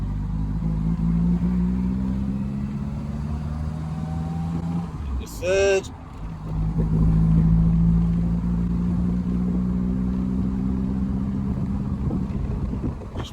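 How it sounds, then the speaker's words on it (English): A vintage Triumph Roadster, its engine long stored in a transport museum, runs with a low steady drone and pulls through the gears. A few pops and bangs break the note, with a brief interruption around the middle, and a voice speaks briefly. "it's going to pop and bang a bit, isn't it?"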